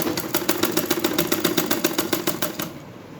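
A sewing machine stitches a lined suit in a quick, even run of mechanical clacks, close and steady, then stops abruptly, leaving quiet room tone.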